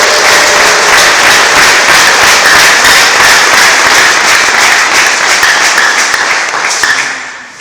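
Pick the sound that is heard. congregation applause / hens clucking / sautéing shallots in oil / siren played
congregation applause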